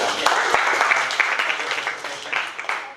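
An audience at an Asian youth forum opening applauds after a presentation, a dense burst of clapping that stays steady, then thins and fades toward the end.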